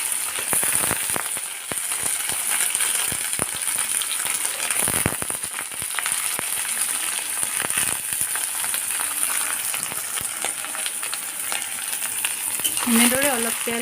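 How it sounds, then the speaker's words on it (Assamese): Dried fish frying in hot oil in a wok, a continuous loud sizzle with sharp spattering pops from water in the pan, close up, with a brief scraping stir near the end. "পানী আছে বাবে অলপ চিটিকি উঠিছে"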